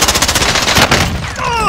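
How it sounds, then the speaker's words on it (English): An XM4 rifle in the Warzone video game fires a rapid automatic burst of about a dozen loud shots in quick succession, then trails off into game ambience. "I'm firing at you"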